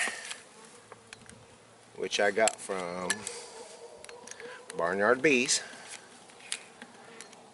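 Honeybees buzz steadily in a nuke box used for a hive split, a continuous close hum beneath someone speaking.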